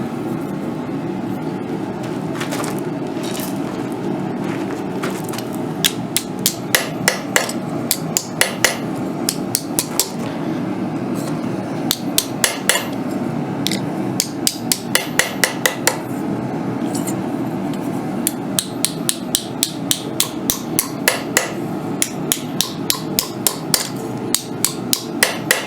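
Metal hammer blows flattening a piece of annealed copper for a sword habaki, coming in quick bursts of sharp, ringing strikes against a steady low room hum, fairly close and loud.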